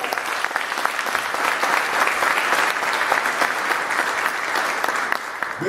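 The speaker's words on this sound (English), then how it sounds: "Let's give him a strong round of applause." Steady, dense applause from an event audience welcoming a guest to the Bronx, continuous and fairly loud throughout with no pauses.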